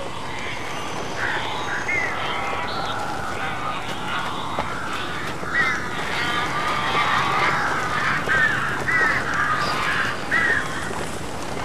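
Crows cawing in the Alan Wake video game, repeated harsh calls scattered over a constant rumbling ambient background, moderately loud and continuing throughout.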